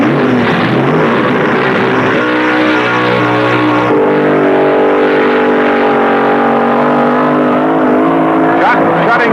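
A drag racing car with a Chevy engine roaring down the strip at Raceway Park, a loud, sustained engine drone that shifts pitch as it runs, with an announcer talking over it.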